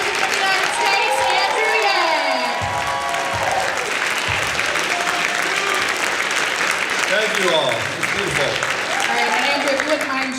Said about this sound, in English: Another round of applause for the next President of the United States, Andrew Yang.